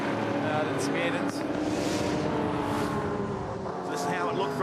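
V8 touring cars race at Winton Motor Raceway in Australia, a continuous roaring engine drone with rising and falling tones as cars pass, heard under steady race commentary.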